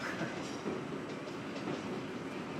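A train rumbles past with a steady low roar and faint rhythmic clacking of wheels on rails, sustained throughout.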